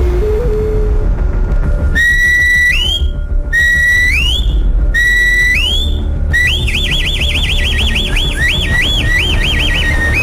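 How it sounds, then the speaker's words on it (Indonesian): A centuries-old death whistle blows three loud, piercing shrieks that rise and then drop away, followed by a longer warbling, wavering scream, close and harsh over a constant low rumble. "Peluit yang berusia beberapa abad ini disebut Roberto sebagai whistlers of death"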